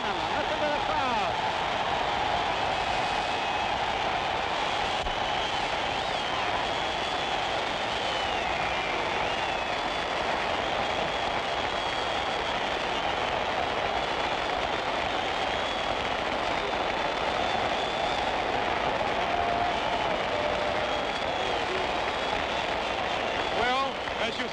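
Loud, continuous roar of a boxing crowd at the close of the Floyd Patterson versus George Chuvalo heavyweight fight, a dense wall of cheering voices that holds steady for the whole stretch, with an announcer talking over it.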